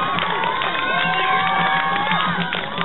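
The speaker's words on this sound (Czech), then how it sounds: "Jeho brácha ho fandí." A crowd cheers and shouts loudly throughout at a biketrial championship final, with a brother among the spectators urging the rider on; sustained, dense whooping and yelling with no clear pauses.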